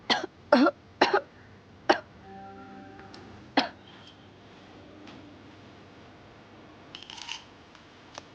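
Several sharp coughs close by, three in quick succession then two more spaced apart, followed by quiet rustling.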